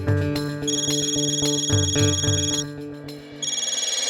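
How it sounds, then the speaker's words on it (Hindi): An electronic phone ringtone chimes in a household scene from a Hindi TV sitcom, a steady repeating melodic tone that plays alone for about four seconds with no talking. "तेरा फोन बज रहा है क्या?"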